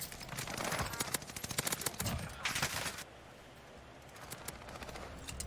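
Rapid automatic gunfire bursts from a video game shooter, dense crackling volleys in the first three seconds, then a quieter stretch with lighter bursts returning toward the end.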